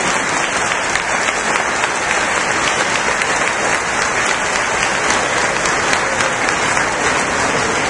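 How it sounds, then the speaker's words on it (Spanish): Sustained, loud applause from a large audience at a political campaign rally in Aguascalientes, Mexico, honouring former party presidents. It is a dense, steady roar of many hands clapping, close and continuous throughout. "Un aplauso para los señores expresidentes."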